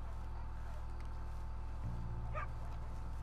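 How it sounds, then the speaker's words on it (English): Faint barking from a dog in the video game Red Dead Redemption 2 sounds in the distance, one or two brief yips rising over a steady low background hum. "Probably should have went to the dog barking anyway."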